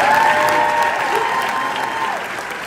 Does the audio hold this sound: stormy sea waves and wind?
no